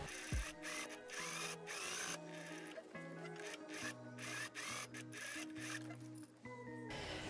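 A sewing machine understitching dirndl seams, giving faint, rapid mechanical stitching in short bursts with brief pauses between runs, with no talking.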